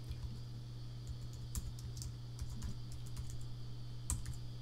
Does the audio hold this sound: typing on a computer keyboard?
yes